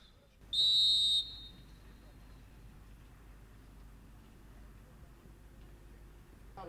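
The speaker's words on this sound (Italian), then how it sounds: "fischia l'arbitro in questo momento" A referee's whistle blows once, a shrill blast of about a second, at an eight-a-side football match in Serie A, followed by low, steady crowd and pitch ambience.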